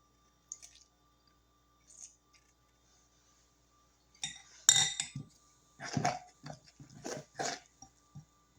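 A spoon stirs pumpkin pound cake batter with a couple of tablespoons of milk in a bowl, producing close, intermittent clinks and wet squishing strokes in short bursts, with no talking.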